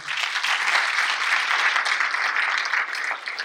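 Audience applause at a school district's state-of-the-district event, a steady wash of many hands clapping in a large room, moderately loud and tapering slightly at the end.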